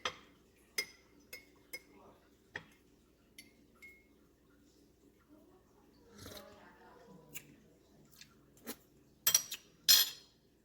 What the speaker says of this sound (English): So we're gonna stir it a little.